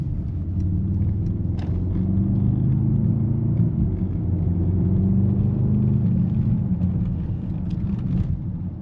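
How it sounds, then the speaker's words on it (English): Deep, steady V8 rumble from a Mercedes-AMG GLS 63 SUV, loud and close, with a slight engine pitch shift midway and a continuous low drone under faint road noise. "I highly recommend getting a V8 in a Mercedes-AMG. Sounds incredible."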